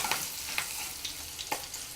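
A spoon stirs a spice mixture with turmeric and amchur powder, giving a brief, close sizzle with a few quick scraping strokes against the pan.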